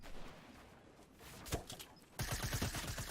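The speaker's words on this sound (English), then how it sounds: "great use of the SMG at that range" Rapid SMG gunfire in Fortnite, a loud burst of closely spaced shots arriving after a quieter stretch with a couple of isolated cracks, close and dense through the final second.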